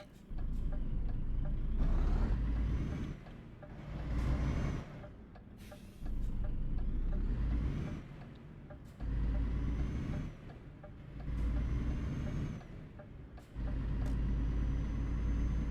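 Simulated truck engine and road traffic in Euro Truck Simulator 2 with ProMods near Bucharest: a deep, loud engine rumble swelling and easing in repeated surges as gears change, with sharp hissing air-brake releases between them and no talking.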